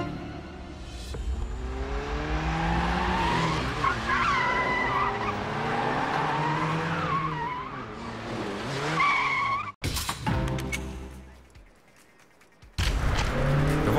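A car pulls away in the video game Wheelman, its tires squealing and skidding loudly over a revving engine for several seconds, then a brief cut and quieter driving sounds before the skid noise returns.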